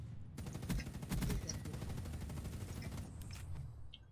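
Rapid gunfire in the video game Call of Duty: Black Ops 3, bursts of quick shots crackling over game ambience, with a player talking now and then.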